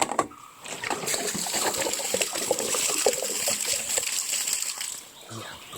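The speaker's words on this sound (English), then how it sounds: "gotta clean out the jug." Water sloshes and splashes inside a jug being rinsed out, a busy continuous run of wet splatters and trickles lasting several seconds, close and fairly loud.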